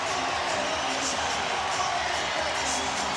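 A basketball arena crowd roars after a game-winning shot by rookie Vince Carter against the Pacers, a steady, dense wash of cheering throughout with a commentator talking over it.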